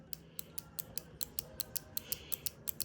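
Arcade push buttons wired in a Dover impulse setup click in a fast, regular series of about fifteen sharp, close ticks, with no talking.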